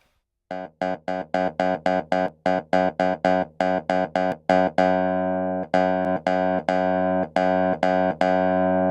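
Compressed piano notes struck in quick repeated runs, each with a hard, punchy attack and evened-out sustain, later settling into longer held chords.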